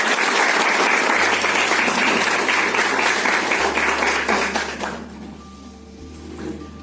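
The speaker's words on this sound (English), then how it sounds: "A big round of applause for Dr." Audience at a college faculty development event applauds loudly and steadily for several seconds, the clapping fading out near the end while a low electronic hum from the hall's sound system continues.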